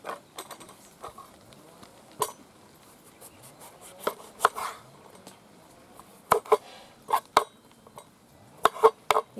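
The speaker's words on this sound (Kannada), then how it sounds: "ಫಸ್ಟು ಚೇಪೆಕಾಯಿನ ಸ್ವಲ್ಪ ನಮ್ಗೆ ಯಾವ ಸೈಜ್ ಬೇಕೋ ಸಣ್ಣ ಸಣ್ಣಗೆ ಹಚ್ಕೊಳ್ಳೋಣ" A knife chops a farm-fresh king-size guava into small pieces on a board, with irregular sharp thuds, sparse at first, then quicker clusters of close, crisp cuts.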